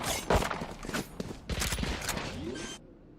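Bursts of gunfire from a Valorant tournament match at a bomb site, rapid overlapping shots in clustered volleys, loud and close, with game effects and faint commentary voices mixed in.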